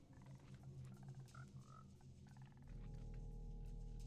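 Frogs in Minecraft Bedrock Edition placed in the Nether, faint croaks and chirps over a low ambient drone that swells louder partway through.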